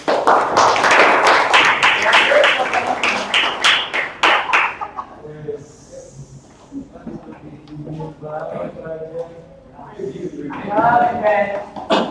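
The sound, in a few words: audience applause in a classroom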